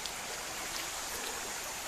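Moormans River in Shenandoah National Park flows over a hiking crossing in a steady, fairly soft rushing hiss heard from close by, with no talking.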